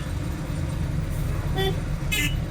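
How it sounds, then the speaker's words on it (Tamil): A short vehicle horn toot sounds twice over steady traffic and engine rumble, fairly close. "பாருங்க ஹார்ன் அடித்தாலும் போக மாட்டாரு"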